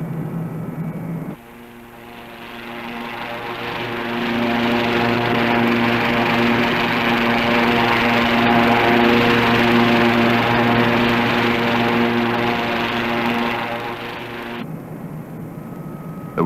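An SRN5 hovercraft from 1964 trials crosses desert sand with scrub and stones, making a loud, sustained engine and propeller roar with a steady humming drone that swells and holds, then drops away near the end.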